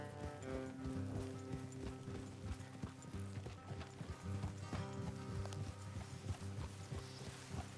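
Horses walk along an off-road track, hooves clip-clopping in an uneven steady rhythm close by, with creaking tack and rattling gear, and a low continuous background of music and ambience.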